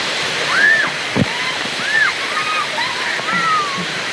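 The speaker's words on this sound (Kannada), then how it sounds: "ಫೈನಲಿ ಇವಾಗ ವಾಟರ್ ಫಾಲ್ಸ್ ಹತ್ರ ಬಂದಿದ್ದೀವಿ." Artificial waterfall at GRS, a steady rushing wash of falling water filling the background, with high voices and chatter of people talking over it throughout.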